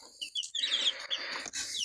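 A hen inside her coop, recently hatched with chicks, gives a few short, close clucks and high chirps in quick succession, with no talking.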